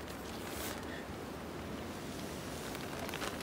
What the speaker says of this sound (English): You could say it's windy.